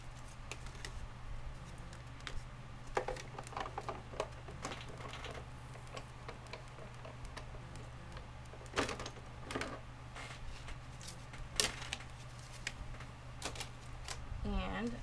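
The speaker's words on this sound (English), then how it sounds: "I'm going to emboss his little tummy, and I'm using the Argyle Cuttlebug folder, and I'm just going to put it in sideways" A Cuttlebug embossing machine presses paper through an Argyle embossing folder, making a quiet series of clicking, ticking and cranking taps with a low steady hum underneath.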